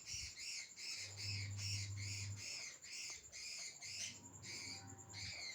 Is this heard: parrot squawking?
yes